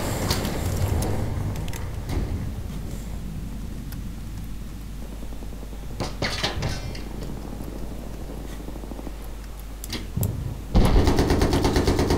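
Battlefield 3 gunfire on Karg Island during a Rush match: sustained rattling automatic fire runs under a steady low rumble, with a few sharper bursts and a louder blast of shooting near the end.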